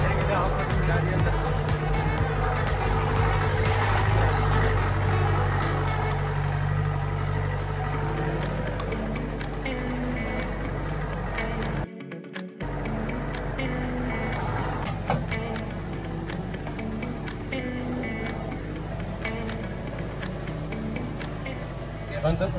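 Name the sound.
jeep driving on an off-road plantation track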